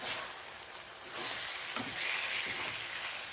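Chicken varuval cooking in oil with turmeric: a steady, soft hiss and sizzle throughout, swelling slightly in brief bursts, close by and fairly quiet.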